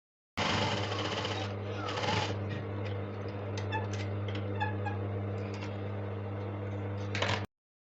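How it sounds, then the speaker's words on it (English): A sewing machine runs steadily, stitching a line on a shirred dress with a dense, even mechanical whirr and a couple of brief pauses at the start, close up, with faint speech in the background. "We are going to sew the second line now."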